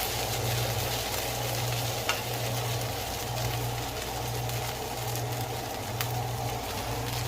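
Diced potatoes for hash fry and get stirred in a hot pan, giving a steady, continuous sizzle with soft scraping under a low constant hum, close and even throughout.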